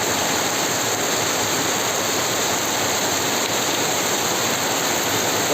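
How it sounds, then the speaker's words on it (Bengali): Heavy rain pours steadily over a Bangladeshi village in a dense, unbroken hiss, loud and close throughout with no voices. "বোনের বাড়িতে আসলাম বৃষ্টির ভিতরে সাথে একটা ভিডিও করলাম আপনাদেরকে গ্রামের বৃষ্টি কিভাবে পরে দেখার জন্য"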